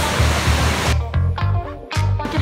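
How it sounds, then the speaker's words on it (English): Silver Falls in Washington roars as a loud, steady rush of falling water close by, a continuous broadband wash of spray and churn. "This is Silver Falls."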